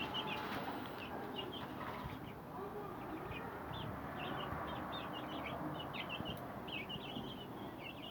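Habeş chickens cluck and chirp softly in a coop, a steady scatter of faint, short calls over a low background hum, somewhat distant and quiet throughout.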